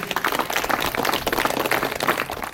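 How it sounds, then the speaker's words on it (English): An audience at a dharma talk claps hands in a dense, steady patter of many overlapping claps, loud and close, with no voices. "Clap your hand"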